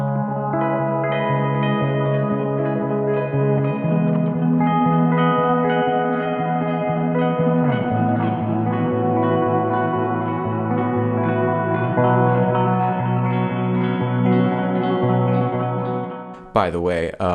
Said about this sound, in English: I'm going to pitch shift it up 7 semitones, which is a fifth, and I'm going to apply an echo effect